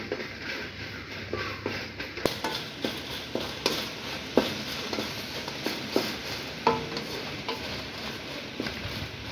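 Dried red chillies, still damp from rainy weather, frying and being stirred in a pan, with a steady faint sizzle broken by repeated scraping stir strokes at an irregular rhythm, fairly close and moderate in loudness.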